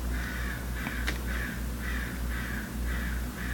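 A crow caws repeatedly outdoors after rain, its harsh calls coming in a steady series of about seven over a low background hum, fairly close and clear with no one talking.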